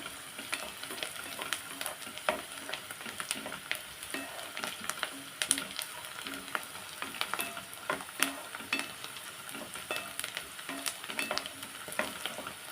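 Sliced onions fry in a hot pan until brown, a continuous soft sizzle with frequent scraping and stirring strokes, fairly faint and heard alone without talk.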